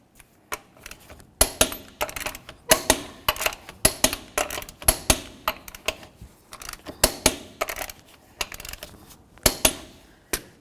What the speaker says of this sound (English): we're going to torque the lug nuts to 140 foot-pounds